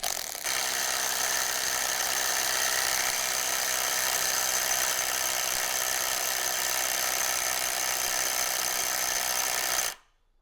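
An Ingco cordless impact driver set to forward and high, fastening a nut, hammers with a loud, steady buzzing rattle for nearly ten seconds before stopping abruptly.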